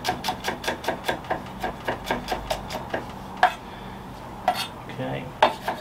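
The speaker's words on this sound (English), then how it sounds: "Quickly just chop these up." A knife chopping vegetables on a cutting board for a lasagne, with a quick, even run of close sharp chops followed by a few slower, scattered strikes.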